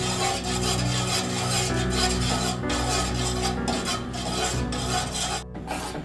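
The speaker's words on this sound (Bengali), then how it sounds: "এখন এটাকে অনবরত নাড়তে হবে, না হলে কর্নফ্লাওয়ারটা নিচে জমে যাবে" Coconut milk and cornflour mixture stirred constantly in a pot on the stove makes a continuous rhythmic scraping and rubbing of the spoon against the pot bottom, steady and close for the whole stretch.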